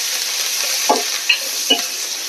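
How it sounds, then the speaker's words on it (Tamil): Curry leaves, green chillies and onion sautéing in a pan for fish curry, heard as a steady hiss with three soft spatula taps spaced about half a second apart, and no talk. "கருவேப்பிலை, பச்சை மிளகாய், வெங்காயம் போட்டு வதக்கிக்கிறேன்."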